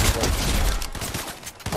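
Rapid bursts of video game gunfire crackle and boom continuously through a short stretch, loud and dense, with players' voices talking over the shooting.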